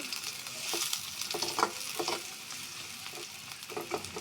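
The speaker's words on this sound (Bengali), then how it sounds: "পেঁয়াজটা আমি নরম করে ভেজে নিছি" Chopped onions sizzle and crackle in hot oil in a pan, a steady close frying hiss broken by light stirring scrapes.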